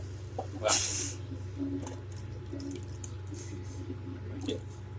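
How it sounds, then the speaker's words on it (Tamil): A little water is poured into a pan of onions and chilies for a Chettinad paneer capsicum thokku, a brief splash and sizzle followed by soft dripping and hissing, quiet and close. "கொஞ்சமாக தண்ணி ஊற்றி அப்படியே வேக போடலாம் சரியா"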